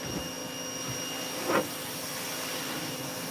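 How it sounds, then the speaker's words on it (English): A pressure washer runs as a steady, loud broadband hiss and hum while washing a boat, with a brief swell of spray partway through and no voices. "And then he takes a pressure washer from me."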